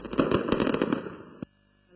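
Firecrackers and fireworks crackle in a dense, rapid burst of sharp pops during end-of-year celebrations. The bangs overlap loudly for over a second, then stop abruptly, leaving near silence.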